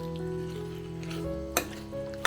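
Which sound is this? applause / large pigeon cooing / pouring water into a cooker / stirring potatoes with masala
stirring potatoes with masala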